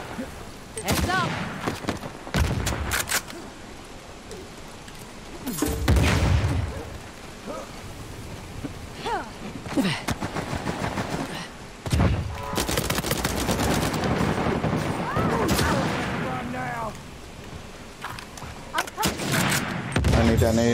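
Gunfire in an Uncharted 4 multiplayer match, with repeated bursts and single shots rattling close and loud, and people talking over the shooting throughout.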